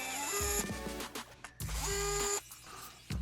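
A small power screwdriver backs screws out of a Mickey bubble blower toy, several short whirring bursts separated by brief pauses, close and clear with no talk.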